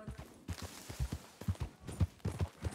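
Horse hooves clip-clop in a western roleplay video game, a quick uneven run of close, muffled thuds in clustered beats.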